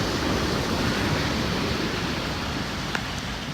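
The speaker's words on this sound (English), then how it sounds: "As the water's crashing, it's starting to breach this concrete wall" Hurricane Dorian storm-surge waves crash against a concrete seawall at a beach on St. Simons, a steady, dense roar of surging water and wind with no clear gaps.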